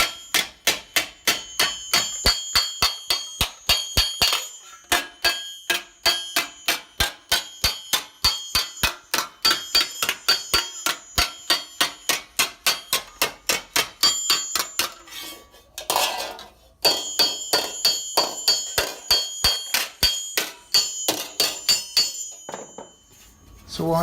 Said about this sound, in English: I'm just sort of hinting, hammering at it to get it started